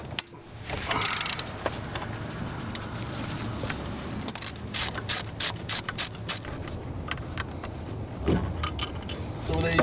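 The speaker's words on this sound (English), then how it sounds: "Next thing I'm going to do is uninstall the tensioner and tensioner pulley. with a 13 millimeter socket." A ratchet with a 13 mm socket loosens the belt tensioner bolt on a BMW 3- or 5-Series engine, giving bursts of close, dry clicking with pauses between pulls.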